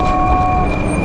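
A train horn sounds as a train approaches, a sustained steady tone mixed into loud ambient rumble, continuous over the short moment.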